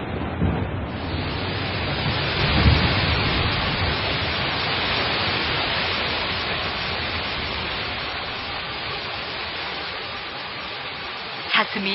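Heavy rain shower pours down in a steady, dense hiss of falling water, loud and continuous throughout, with a brief sharper burst near the end.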